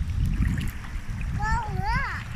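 Small sea waves splash and wash close by, with children's voices and a high squeal over the water.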